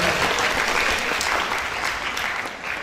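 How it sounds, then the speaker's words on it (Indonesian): An audience at the ONMIPA PT 2023 closing ceremony claps loudly in a thick, continuous burst that fills the room and eases off slightly toward the end. "Tepuk tangan dong."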